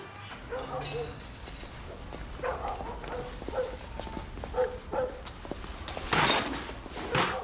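A dog barks and whimpers at moderate distance amid clattering background noise, with short irregular yaps scattered through, and a louder burst near the end.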